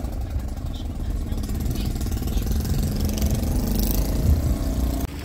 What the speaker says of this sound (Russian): Все гудит. Какие-то мопеды.